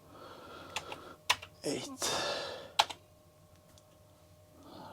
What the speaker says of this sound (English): it's not particularly good, this keyboard either. I need to push relatively hard.